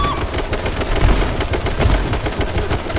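AK rifle fire in the survival game H1Z1 comes in loud, fast bursts of shots that run on almost without a break, with no voices over it.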